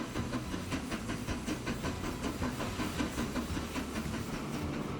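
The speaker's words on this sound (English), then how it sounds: "Oh, I love that clickety-clack sound as it's going by." Long coal train hauled by a Crocodile locomotive in Transport Fever 2, rolling by in the Swiss Alps with a continuous rhythmic clickety-clack of wheels over rail joints, steady and moderately loud throughout.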